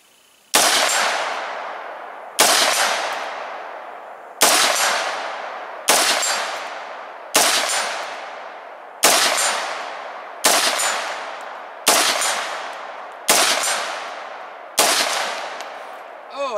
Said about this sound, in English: 5 rounds of the Red Army Standard, 5 rounds of the Fiocchi. We're gonna try to put it on the steel